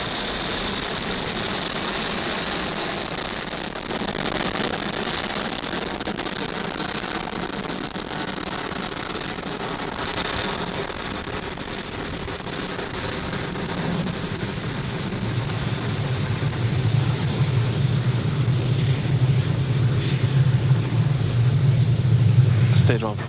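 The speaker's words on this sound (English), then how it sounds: "Falcon 9 has successfully lifted off from Pad 40 at Cape Canaveral Space Force Station" Falcon 9 rocket lifting off from Pad 40 at Cape Canaveral Space Force Station, a broad distant roar that builds steadily and deepens into a heavy low rumble.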